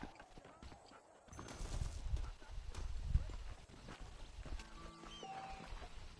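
A war horse's hooves clip-clop in steady rhythm across Red Dead Redemption terrain, fairly close and moderately loud, with ambient outdoor game sound and no voices.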